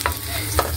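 Garlic sautéing in a pan for adobong pugita, a short burst of close frying sizzle with two quick stirring scrapes, fairly loud.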